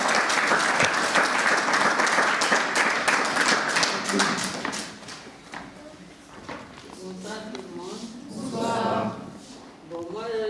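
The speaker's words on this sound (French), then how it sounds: "Allez, sous vos applaudissements, Madame Charlotte Nzumba." An audience at an evening event in Brussels applauds with loud, dense clapping that thins out over several seconds, then a voice talks over the last scattered claps.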